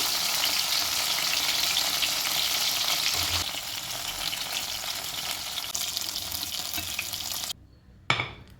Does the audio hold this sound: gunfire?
no